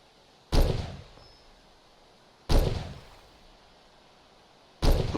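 Three sharp sniper rifle shots from Far Cry 2, evenly spaced about two seconds apart, each a loud crack with a decaying echo tail over quiet ambient background.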